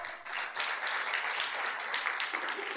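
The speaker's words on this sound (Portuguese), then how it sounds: "aplauda ao Senhor" Church congregation applauding during a worship service, a dense, continuous patter of many hands clapping at moderate volume, steady for a few seconds with no speech on top.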